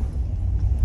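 A low, continuous rumble from inside a vehicle driving over a cobblestone street, heavy and droning throughout with no talk.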